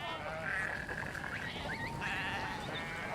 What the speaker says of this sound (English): The sheep may be robust and self-sufficient, but Sean Byrne does help them get through the rainy season.